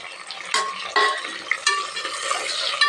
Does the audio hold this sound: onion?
yes